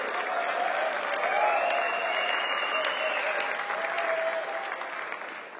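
A crowd at the Rote Funken Köln carnival corps' 2015 regimental drill applauds in a steady, dense wash of clapping that holds for several seconds and then slowly tapers off, heard from a little distance.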